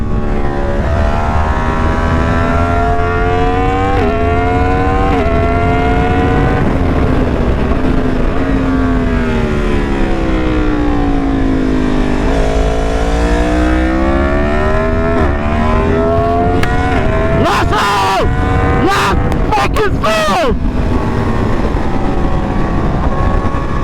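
A Yamaha MT10 motorcycle fitted with a bigger rear sprocket accelerates hard, its loud engine note rising and falling through the gears with sweeping pitch changes, and brief gusty bursts of wind noise near the end.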